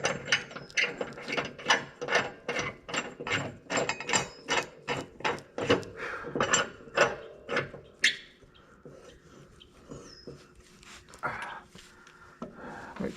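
A ratchet clicks in quick, rhythmic bursts while tightening the bolt on a John Deere Z910A mower blade, close and steady with short pauses between strokes.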